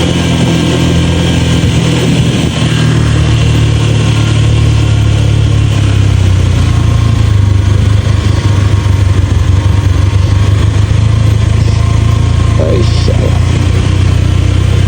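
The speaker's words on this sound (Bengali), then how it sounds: "নামছি আস্তে আস্তে, ইঞ্জিন ব্রেকে, হাতে ব্রেক, পায়ে ব্রেক আস্তে আস্তে ধরে।" A vehicle creeps down a steep, sloping road on engine braking, with a steady, loud, low engine drone running close and unbroken throughout.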